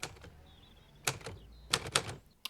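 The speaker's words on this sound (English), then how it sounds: "Slow typewriter. That must be horrible to do a report with." Slow, deliberate typing on a manual typewriter in a TV war drama: a few separate clacks early on, then small clusters of sharp key strikes, close and clear over a quiet room.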